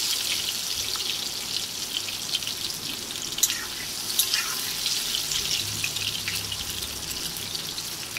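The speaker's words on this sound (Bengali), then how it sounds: "আমার তেল গরম হয়ে গেছে, আলুটা ভেজে নেব।" Potatoes frying in hot oil for a pointed gourd and prawn dish give a steady, close, crackling sizzle with scattered sharper pops, continuous and without talk.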